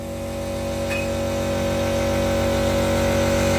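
A tractor engine idles with a steady, droning hum and a low mechanical throb, close by and constant throughout.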